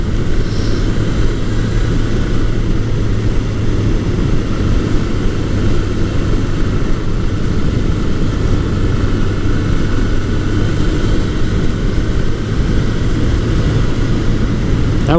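The engine of a 1981 Suzuki GS1100E motorcycle runs steadily at a constant idle, a dense, even mechanical drone that stays loud and unbroken throughout with no voices.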